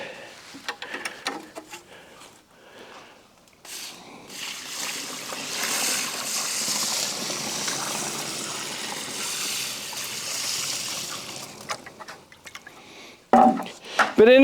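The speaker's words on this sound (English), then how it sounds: "Get some more water here." Water pours and splashes into a giant rock tumbler in a steady rushing stream lasting several seconds, with brief handling clatter before and after.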